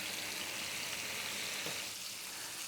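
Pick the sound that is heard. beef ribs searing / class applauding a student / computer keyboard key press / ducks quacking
beef ribs searing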